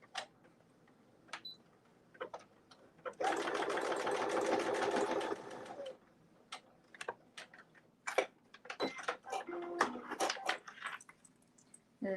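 A sewing machine runs a steady burst of top stitching along a seam for about three seconds, framed by quieter ticking and handling clicks before and after.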